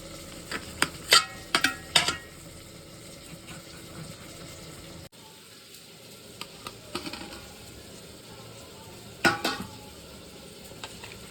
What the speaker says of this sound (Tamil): கத்திரிக்காய் கட் பண்ணி அதில் போட்டுக்கலாம்